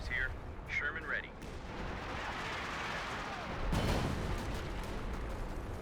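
Artillery barrage in the real-time strategy game Company of Heroes 2, with heavy distant booms and a sustained rumbling roar of shelling under a commentator's voice.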